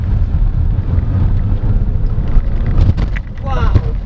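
A 2024 GWM Haval H6 Supreme HEV hybrid SUV pulls hard at full power, heard from the cabin as a loud, steady low rumble of engine and road noise, with a brief voice near the end.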